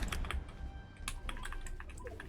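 Rapid clatter of keys on a computer keyboard during a game session, bursts of close, fairly loud keystrokes in an uneven rhythm with no voices.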